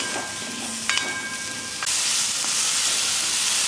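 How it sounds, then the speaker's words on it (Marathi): Steady sizzling hiss of sliced mushrooms cooking in butter, with a few faint clicks, growing noticeably louder about halfway through. "आपण हे कापलेले मशरूम आता परतून घेऊ थोडेसे।"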